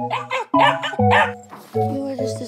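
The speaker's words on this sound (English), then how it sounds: "I'm playing with puppies" Several puppies bark and yip close by in quick, high-pitched bursts with whimpers between them, loud and overlapping.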